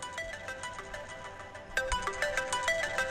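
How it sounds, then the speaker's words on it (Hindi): A melodic electronic ringtone chimes in a repeating pattern of bright tones, growing louder partway through, with no voices. "खसखसे का फोन। उठाओ उठाओ।"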